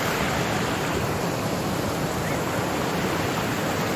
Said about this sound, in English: Here by the Cimarron River.